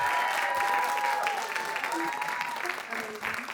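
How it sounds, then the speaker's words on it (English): A crowd claps steadily for a few seconds, with a voice speaking over the applause. "So we would like to applaud Elijah one more time as our host."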